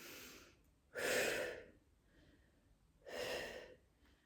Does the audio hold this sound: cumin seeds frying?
no